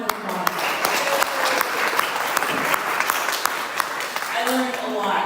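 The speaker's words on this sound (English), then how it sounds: "Let's give them one more round of applause." A room of people at a Toastmasters event gives students another round of applause, a loud, dense burst of clapping held for several seconds with some indistinct voices mixed in.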